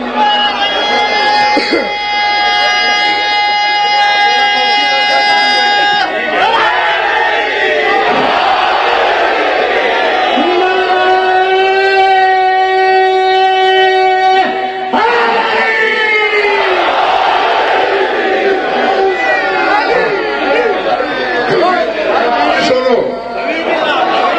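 A large crowd at a Shia majlis chants slogans in loud, sustained unison, the voices swelling in long rising-and-falling waves that fill the whole stretch with only brief dips between calls.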